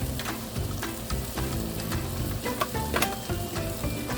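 Pad Thai noodles fry in a pan with steady sizzling and crackling, broken by scraping stir strokes and scattered pops at close range.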